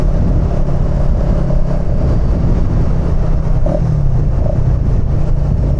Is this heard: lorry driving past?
yes